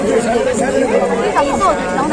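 Dense crowd of pilgrims chattering at Kedarnath during the Char Dham yatra, a steady close babble of many overlapping voices with no pauses.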